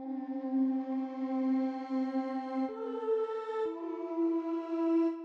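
A dry synthesizer tone for an ambient jungle track, with no reverb, sustains a smooth harmonic note that steps to two slightly different pitches, close, clean and evenly held with a gentle wavering swell.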